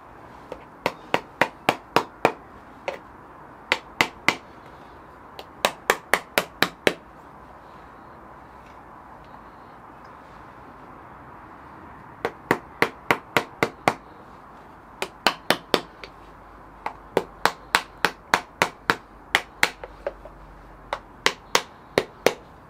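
A tinsmith hammers the bottom onto a tin vessel, tacking it in place with quick bursts of sharp metallic taps. Groups of three to seven strikes come close and loud over a faint background hum.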